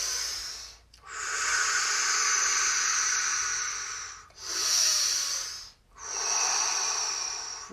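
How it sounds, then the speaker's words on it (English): Slow, deep breaths during a seated chair yoga exercise: long airy inhales and exhales, each lasting several seconds, separated by brief pauses, close and fairly loud with no talking. "So we're just breathing."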